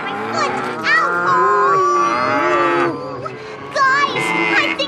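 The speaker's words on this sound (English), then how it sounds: "Those cattle can get mighty restless." Cattle mooing loudly in several long, drawn-out calls close by, with a brief pause before a final low moo.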